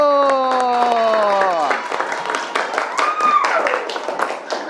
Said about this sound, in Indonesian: tepuk tangan untuk presentasi kelompok 1